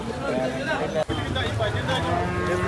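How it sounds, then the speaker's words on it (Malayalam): A Jersey bull calf moos loudly and near, in a long drawn-out low call, amid a livestock sale with people talking and murmuring in the background. "ജെയ്സി കാളക്കുട്ടിയാണ്"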